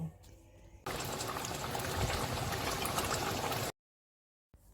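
Mustard-poppy katla fish curry simmering in a pan: a steady close bubbling and sizzling hiss that starts abruptly, holds for about three seconds, then cuts to silence, with no talk.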